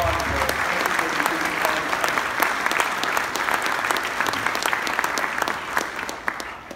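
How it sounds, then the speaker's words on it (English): An audience at the mayor's 2019 State of the City address applauds city council members, a long, even wave of clapping with faint cheering voices mixed in. "Let's give them a round of applause and a shout out."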